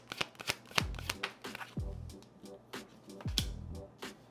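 Tarot cards being shuffled and drawn: a run of crisp riffling flutters and sharp slaps, close and fairly quiet, with no talk over them.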